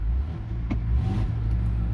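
A 2004 Honda Pilot with a transmission fault accelerating, a steady low engine rumble and drone heard from inside the car, fairly loud and continuous with a faint click partway through and no talk.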